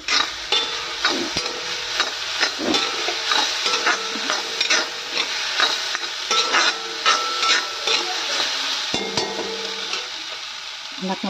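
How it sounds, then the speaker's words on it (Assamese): Broiler chicken with banana flower fries in a pan, a steady close sizzle broken by repeated scraping and stirring strokes and small metallic clinks, with no talking. "একদম কম জুইত ভাজিম ধুনীয়াকৈ এইখিনি মই"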